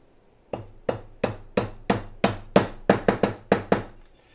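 Hammer taps on parts while a firearm lower receiver is put together, about a dozen sharp, close knocks in a quick, slightly uneven rhythm with no talking.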